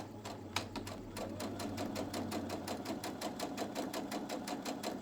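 A sewing machine stitches quilt fabric, a fast, even rhythmic clatter of needle strokes running steadily and close up, with a low motor hum beneath and no talking.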